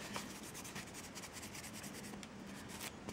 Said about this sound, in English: I'm just going to wipe off the tacky layer with the Magpie cleanser